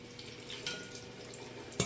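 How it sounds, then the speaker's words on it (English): Fries sizzling in hot oil in a deep pot, a soft continuous crackling hiss with light bubbling, ending in a sharper clatter. "we want that nice sizzle there"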